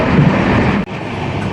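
A Howrah–Satya Sai Prasanthi Nilayam express train passes close by, its loud rolling rumble and clatter filling the moment before a sudden brief drop, then rushing on.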